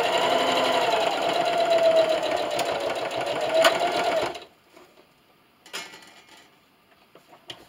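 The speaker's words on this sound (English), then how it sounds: "so I'm just going to backstitch right when I get there." A sewing machine runs steadily for a few seconds, stitching a fleece scarf seam and backstitching, then stops; a few faint clicks and handling sounds follow in the quiet.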